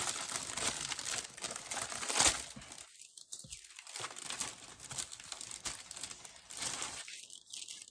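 Sticker backing being peeled off a printed heat-transfer decal, a close crinkling and tearing rustle with a sharp crackle near the start and softer crumpling, no talking.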